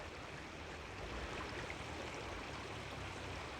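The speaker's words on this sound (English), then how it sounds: "The sound of the water's excellent." Steady flowing stream water beside old abandoned railway ruins, a constant broadband rush without breaks, moderately quiet and heard alone.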